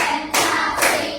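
A classroom group claps in a chant, a couple of sharp, dense bursts of hands striking together, close and loud with no voices, in a clip too short to show all four claps.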